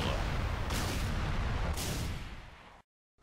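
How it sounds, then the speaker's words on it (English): An explosive pistol in Halo Reach fires two booming blasts about a second apart, each a loud burst over a rumbling roar that fades and cuts off abruptly. "comes our most effective weapon to date, the explosive pistol."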